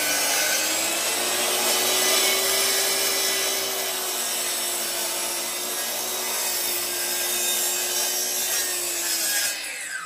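A saw cuts steadily through wood for the whole stretch, a loud continuous rasping whine up close with no talking.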